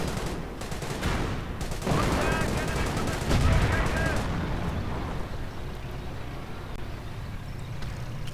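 Gunfire and explosions from a World War II strategy game, with British troops, Cromwell tanks and a German Panzer force in combat: dense bursts of rattling shots and booming blasts run loud and continuous, fading toward the end.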